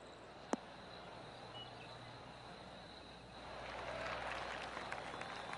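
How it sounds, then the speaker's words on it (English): A PGA golf gallery offers a soft, polite golf clap that rises gently after a single sharp click, distant and subdued over quiet outdoor ambience with insects. "Oh, golf clap."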